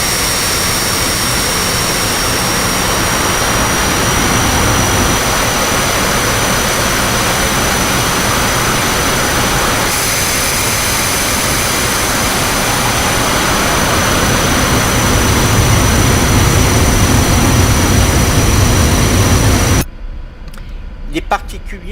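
Loud, steady jet roar of a Northrop F-5E Tiger landing fills the whole span, holding constant with a high whine on top before cutting off abruptly near the end, leaving only faint noise.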